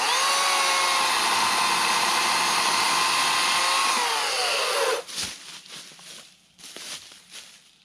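An Atlas 80V cordless chainsaw from Harbor Freight cuts through wood with a loud, steady high whine that dips under load, then cuts off abruptly, leaving a few clunks and rustles.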